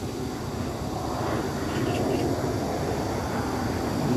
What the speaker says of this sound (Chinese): 哦，战斗机过来了，战斗机